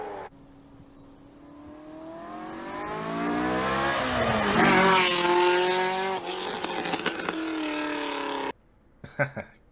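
A high-revving flat-plane crank LS7 V8 engine with heavy induction noise climbs steadily through its rev range toward 8,500 RPM, its harmonics rising to a loud, screaming peak before it drops off and cuts out near the end.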